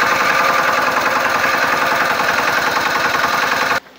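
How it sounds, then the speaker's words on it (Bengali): A newly fitted 170 cc engine idles for break-in with a loud, close, rhythmic chugging and knocking pulse that cuts off abruptly near the end. "ইঞ্জিনটা এখন ল্যাপিং হবে কিছুক্ষণ, মানে স্টার্টিং করে চালিয়ে রেখে দিতে হবে।"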